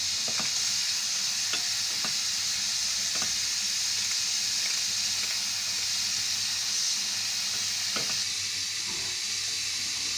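Onion and minced meat sauté in a pan with a loud, steady sizzle and occasional sharp stirring clicks from a utensil.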